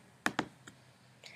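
A computer mouse clicks on the Continue button while setting up a Raspberry Pi SD card: two quick, sharp clicks close together, followed by a fainter tap and a short soft chime, with no talking.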